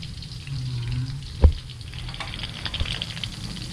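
Lumpia wrapped in seaweed sheets fry in hot oil, a steady crackling sizzle with one sharp pop near the start and lighter spatter afterward, heard close up with no speech.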